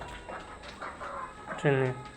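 Fayoumi hens cluck in short, scattered calls, ending in one louder, drawn-out, tonal cluck near the close, heard close by against a soft background with no one speaking.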